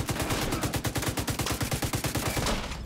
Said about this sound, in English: Let's shoot at his legs there.